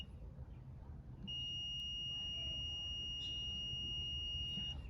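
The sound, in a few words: multimeter continuity beep on oxygen sensor heater circuit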